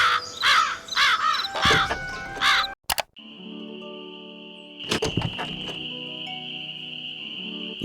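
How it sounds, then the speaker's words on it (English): Crows caw in a video game, Nancy Drew: Ghost Dogs of Moon Lake, with several harsh rhythmic caws up front, then a long quiet stretch of steady insect-like tones and a few more scattered calls. "I've been scaring other birds away before I can take their picture"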